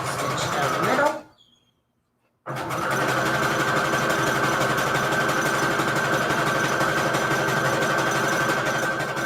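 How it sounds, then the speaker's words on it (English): A sewing machine stitches a zigzag down Christmas-themed fabric scraps for a junk journal cover, a steady close mechanical whir that halts for about a second and then resumes. "Again, zigzag stitch down the middle."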